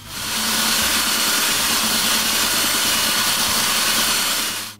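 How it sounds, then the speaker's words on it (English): A power sander works the sides of glued, epoxy-coated wooden tack box trays, a loud, close, continuous motor whir with a grinding texture that runs steadily and then stops. "Now the epoxy is dry. I sand all the sides of the two trays."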